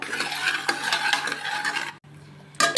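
Cooked brinjal and potato being mashed in a pot, with steady scraping and stirring at close range for about two seconds, a brief pause, then a sharp scrape resuming.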